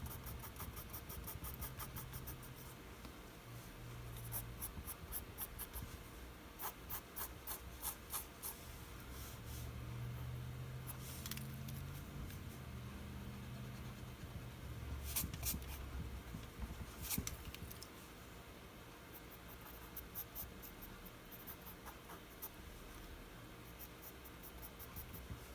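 Pencil sketching short hair strokes on paper, with repeated quick scratchy flicks in clusters, close and faint over a low steady engine hum.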